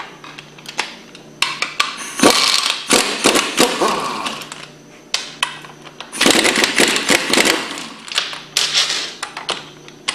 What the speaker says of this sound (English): We'll start by removing the front housing with the 9/16 socket.